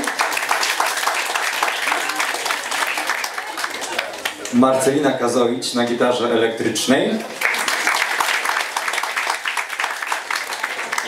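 Audience applause at a student song-studio concert, steady clapping under a voice announcing performers, briefly dipping while he speaks and then resuming strongly.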